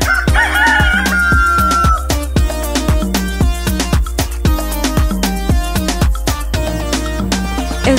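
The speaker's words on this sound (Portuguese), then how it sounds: "Eu estava tentando dormir quando um galo me acordou." A rooster's cock-a-doodle-doo crow rises loud at the start, then gives way to a bouncy children's song with steady beats and bright music filling the rest.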